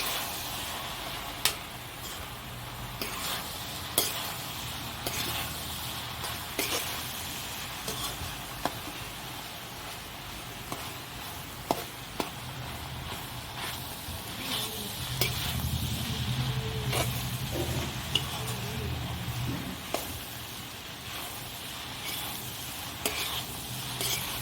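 Mutton keema with turmeric being stirred in a pan, a steady low sizzle under scattered sharp clicks of a spoon against the metal, with a fuller frying surge about two-thirds of the way through.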